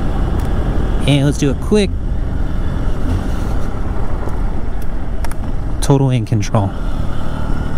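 Honda XR150L motorcycle engine running steadily while riding off-road, a continuous rumbling drone under intermittent talk from the rider.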